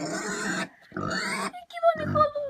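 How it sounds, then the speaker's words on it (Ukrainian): Pigs on a village farm grunt and oink in short bursts, close by, with people talking over and between the animal sounds. "Свинки."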